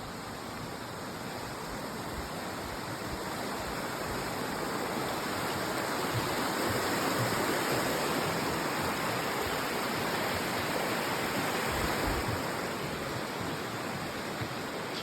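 A river flowing at a boardwalk crossing near Mosquito Beach in Michigan, a steady broad rush of water that holds even and close for the whole stretch with no voices.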